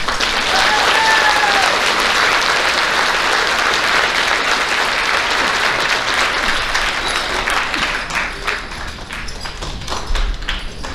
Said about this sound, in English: Give these kids a round of applause for football.